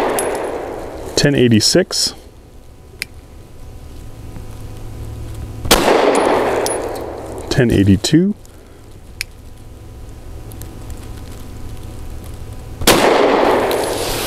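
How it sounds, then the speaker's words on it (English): A Tisas PX9 Gen 3 Duty 9mm pistol with a 4-inch barrel fires defensive ammunition in a chronograph test, three loud sharp reports spaced several seconds apart, each followed by echo, with someone speaking between shots. "I forgot how soft and easy this gun is to shoot"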